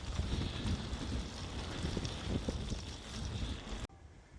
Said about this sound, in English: going against the wind